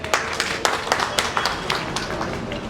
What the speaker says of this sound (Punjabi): ਇੱਕ ਵਾਰੀ ਤਾੜੀ ਹੋ ਜਾਓ ਜੀ